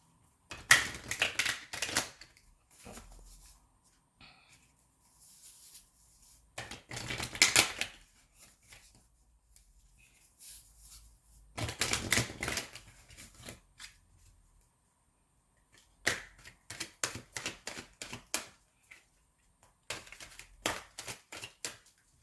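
Oracle angel cards being shuffled in bursts of crisp riffling and flicking, close and fairly quiet, separated by pauses of near silence.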